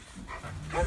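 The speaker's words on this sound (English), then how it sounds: "Both of our dogs are terrier mixes" Terrier mix dogs Pearl and Murphy on a farm, a brief canine vocalization close by, soft and short with a low rumble beneath.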